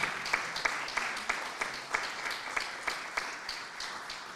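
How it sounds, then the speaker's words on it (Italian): Applause from an audience at an art event for sculptor Enzo Cacciola in Soresina, Italy, sparse and fairly quiet, with separate sharp claps standing out in an uneven rhythm throughout. "un applauso per me ci vorrebbe"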